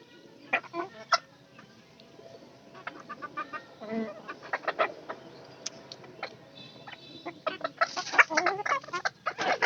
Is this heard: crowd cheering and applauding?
no